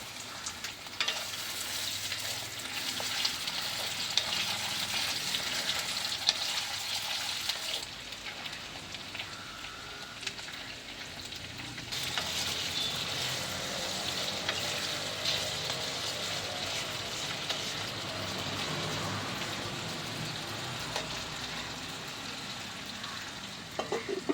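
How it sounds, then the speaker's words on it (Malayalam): Potatoes frying in hot oil for a Kerala-style dish, a soft continuous crackle and sizzle at low volume, with a brief shift in texture partway through, and no talking. "ഇത് നമ്മളിപ്പോൾ എണ്ണ ഒഴിച്ചു ഒഴിച്ചിരിക്കുന്നു ഉരുളക്കിഴങ്ങ് ഇട്ട് കൊടുത്തു"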